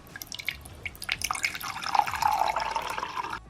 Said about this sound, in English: what I want to do first is add some water in here